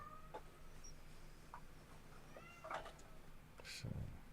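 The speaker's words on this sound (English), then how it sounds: "Is that your Milo, cat?" A pet cat meows a few times at moderate distance inside a house, short faint calls over a steady low background hum, with no talk.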